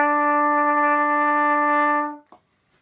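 A trumpet plays a single sustained brass note fingered with valves 1 and 2, held steady and full for about two seconds before cutting off with a short breathy release.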